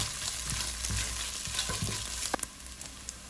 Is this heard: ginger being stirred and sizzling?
yes